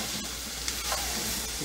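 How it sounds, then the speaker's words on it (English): Onions, celery and green peppers are stirred into a gumbo roux in a pot, producing a soft, steady sizzle and scrape with a few faint knocks. The sound is fairly quiet, with no speech. "So we're going to mix this in our roux."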